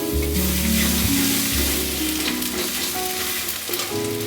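Tomato dropped into hot spiced oil in a kadai for a small river-fish paturi: a loud, steady close-up sizzle and crackle that keeps frying throughout with a light stirring scrape.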